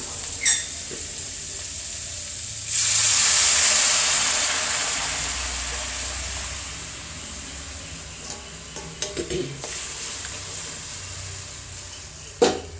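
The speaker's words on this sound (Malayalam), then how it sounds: "നമുക്ക് ഇതിനകത്തേക്ക് തിളച്ച വെള്ളം ഒഴിച്ചു കൊടുക്കാം" A few quiet sizzles, then a sudden loud hissing surge as boiling water is poured into a hot sizzling pan, fading gradually back to low bubbling with occasional clinks.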